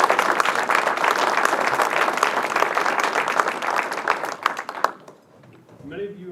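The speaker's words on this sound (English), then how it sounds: "let's give a round of applause to all of the female athletes" Audience at an athletics hall of fame induction ceremony applauding female athletes, a full, steady round of clapping that tapers off after about five seconds, followed by a voice beginning to speak.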